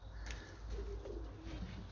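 Pigeons released from their loft coo softly in low, throaty bursts against a faint background hum, with a brief scuffle or flutter near the start.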